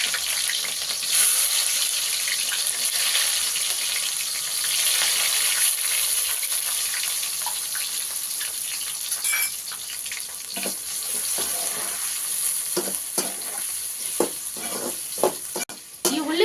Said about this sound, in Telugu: ఇప్పుడు నూనె వేడెక్కింది వేసేసుకుందాం